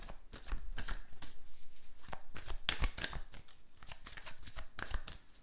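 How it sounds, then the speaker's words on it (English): Tarot deck being shuffled by hand, a rapid run of close riffling and flicking card noises repeating steadily over several seconds. "Let's pick out 3 cards."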